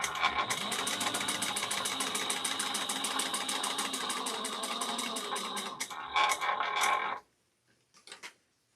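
A sewing machine runs steadily for about six seconds stitching a small box tote bag, a rapid even needle rhythm, then a brief pause, a short burst of stitching and silence.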